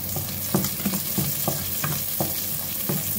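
Onions sautéing in a hot pan with garlic for a beef dish: a loud, continuous sizzle broken by regular spatula stirs and scrapes about every half second, close up and with no talking.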